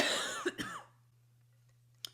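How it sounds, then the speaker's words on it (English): A single raspy cough up close, fading into near silence with a faint steady hum underneath and a brief click near the end. "I'm still coughing."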